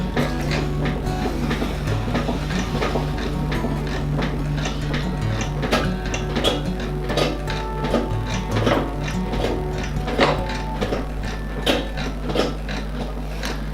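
A Leach-style treadle pottery wheel being worked, with rhythmic knocking and creaking of the kick mechanism and repeated clunks over a low steady rumble, close and fairly loud.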